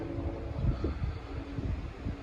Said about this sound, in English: It's quite windy here, so you might not be able to hear what's going on.